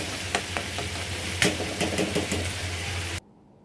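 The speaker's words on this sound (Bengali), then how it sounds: "ভাজা চিংড়িটা এখন কষানোর মধ্যে দিয়ে দিচ্ছি" Fried prawns drop into a pan of sizzling garlic and spice masala, giving a close, steady hiss under a low hum, dotted with stirring clicks, then cutting off abruptly near the end.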